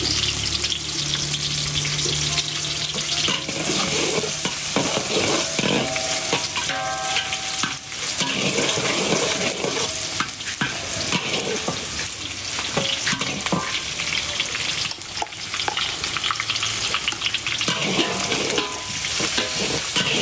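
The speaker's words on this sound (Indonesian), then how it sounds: "Kita goreng dulu ya" Food fries in hot oil in a pan while being stirred and turned. A loud, continuous close sizzle is punctuated by repeated scraping and clanking of the utensil against the pan.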